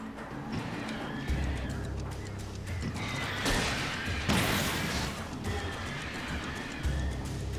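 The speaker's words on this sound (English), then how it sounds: "Birds. Uh-oh." A flock of birds swoops in to attack inside the Alan Wake video game, with loud, dense flapping and screeching bursts swelling over a steady game soundscape, peaking in two heavy surges midway through.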